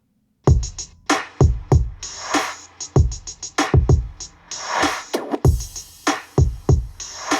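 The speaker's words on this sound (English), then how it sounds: "But the drums sound like this." A double-time drum beat in a G-Funk style plays alone, with punchy kicks and snares in a quick, steady pattern and no voices.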